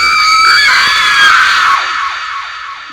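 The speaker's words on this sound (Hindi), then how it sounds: "वो ज़ोर से चीख मारती है" A woman lets out a loud, piercing scream that is sustained for about two seconds before trailing off, part of a told horror story.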